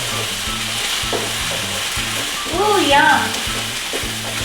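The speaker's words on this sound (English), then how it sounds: "Gonna fry this up for about a minute." Grated ginger sizzling steadily in a hot pan for a chicken tikka masala, a constant frying hiss with brief stirring scrapes, and a short spoken exclamation rising over it near the end.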